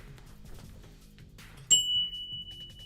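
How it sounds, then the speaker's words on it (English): A small bell is struck once on a live fantasy football show, giving a bright sharp ding that rings on with a steady fading tone over quiet background. "The Mike White bell. I'm ringing it."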